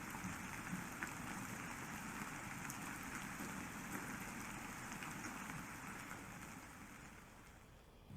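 Steady rain pours down with a dense, even hiss and patter on surfaces, constant throughout and fading slightly at the end.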